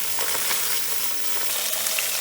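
Fish pieces frying in a hot pan, a steady, dense sizzle and crackle that stays close and loud throughout with no talking.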